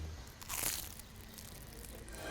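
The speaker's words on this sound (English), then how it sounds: "listen out for that crunch" A diamond-shaped golden Maltese pastizzi pastry cracks with one loud, flaky crunch as it is bitten, followed by softer crackling and chewing close up.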